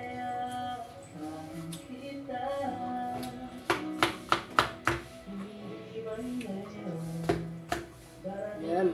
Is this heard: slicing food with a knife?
yes